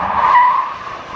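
A car doing donuts screeches its tires in one long, loud, close squeal that rises and then slowly fades.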